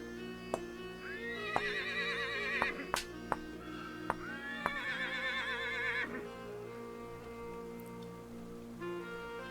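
A horse in a video game whinnies twice in long, shrill, wavering calls, close and clear, with scattered clicks and hoof-like knocks in between and no voices.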